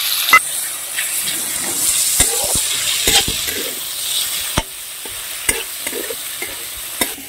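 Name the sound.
shrimp frying with ginger in a pan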